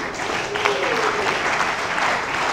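Audience at a film premiere in a Congolese salon applauding, a steady wash of clapping filling the whole moment with faint voices underneath.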